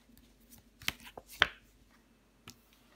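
Tarot cards handled and flipped over on a table, soft papery slaps and shuffles with a few sharper snaps, close and quiet, with no talk.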